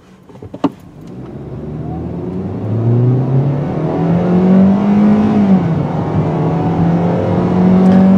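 A 2018 Kia Rio in sport mode accelerating hard from a standstill in a 0 to 60 run, engine note climbing steadily through the gears, loud and close, with a brief click at the start and no talk.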